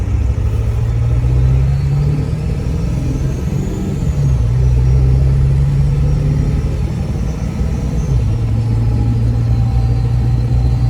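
A 2003 truck with a 7.3 diesel engine accelerates on the road, giving a loud, steady low rumble that rises and shifts through gear changes with no talking.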